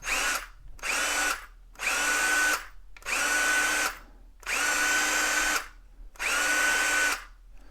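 A Hart HPDD02 brushed cordless drill runs in six bursts of a few seconds each, separated by short silent gaps. The motor gives a steady high whine and is heard close and alone.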